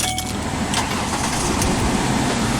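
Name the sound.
car engine starting up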